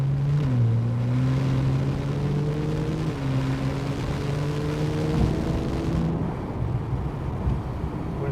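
A 2015 Porsche 911 991.1 Turbo S drones loudly and steadily from up close, its engine tone dropping in steps as it downshifts, with no distinct exhaust pops standing out before the noise cuts off near the end.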